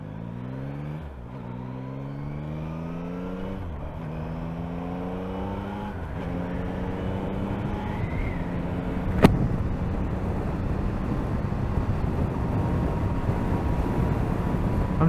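A 2024 Yamaha MT-09 motorcycle accelerating, its engine and intake note climbing repeatedly through gear changes, then a steady rising roar with wind noise, heard close and fairly loud.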